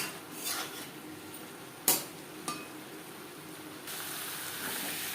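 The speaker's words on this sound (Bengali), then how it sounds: "হাই টু মিডিয়াম ফ্লেমে আরও তিন চার মিনিট নাড়াচাড়া করে নেব" Vegetable stems and potatoes stirred in a pan over high to medium flame for a bata fish curry: a soft steady hiss with a couple of sharp utensil clanks against the pan.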